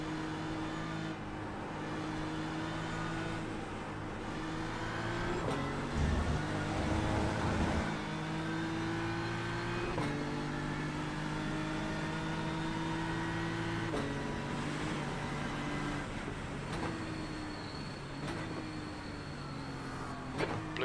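GT3 race cars in a racing video game, engine drone rising and falling through gear changes with cars passing close by, steady and moderately loud throughout.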